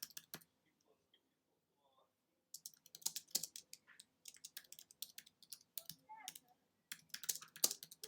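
Keys tapped on a computer keyboard while entering a reference in citation software, quiet bursts of rapid clicks separated by pauses, close and alone.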